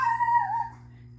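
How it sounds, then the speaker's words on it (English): A single drawn-out dog vocalization, more of a whining howl than a bark, lasting under a second over a low steady hum. It is fairly close and clear. "sorry about the dog barking."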